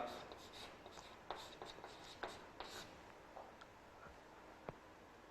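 A marker or chalk writing a note on a board during a matrices lecture. The strokes give soft, irregular scratches and taps that are faint and close, with no talk over them.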